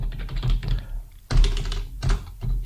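Typing on a computer keyboard while entering PHP code: bursts of rapid, close key clicks and thunks with short pauses between runs, heard on its own.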